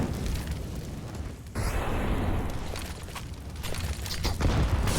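A grenade detonating in a CS:GO pro match, a loud burst of noise with a blown-out roar that settles into a lingering rumble.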